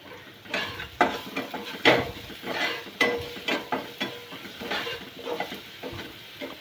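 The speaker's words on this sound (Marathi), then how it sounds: "कांदा चांगला भाजून घ्यायचा" Onion frying in a pan as a spoon scrapes and stirs it, producing irregular clinks and scrapes over a steady sizzle, close and fairly loud, with no talking.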